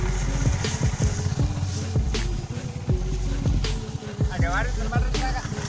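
A motorcycle engine driving a makeshift farm-work rig in India, running with a loud, close, rhythmic chugging thump and changing a little in pitch, with faint other noise over it.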